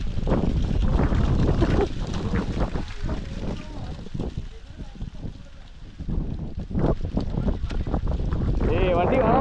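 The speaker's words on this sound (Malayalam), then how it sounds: "ഓ നല്ല കാറ്റ് വന്നിട്ടുണ്ട്, അടിപൊളി വൈബാണ്." Wind buffets the microphone during an off-road ride near Kumbakonam, a loud, gusty rumble that stays constant beneath people talking.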